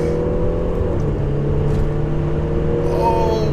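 An Audi 3-litre bi-TDI diesel sleeper pulling hard uphill in first gear, heard from inside as a loud, steady engine drone and whir that holds strong throughout.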